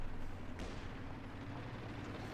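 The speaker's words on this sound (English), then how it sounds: "And there goes Jackson getting hit with double cannon with Panthers moving in here." Tank cannon fire in Company of Heroes 2, with Panthers in an OKW versus USF match: a dense, booming barrage of heavy blasts with a sharp crack partway through, loud and continuous.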